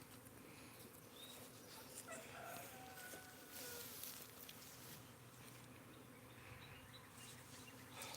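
A swarm of honey bees around a tree limb fills the air with a dense, continuous buzzing that stays loud and close throughout, with no talk.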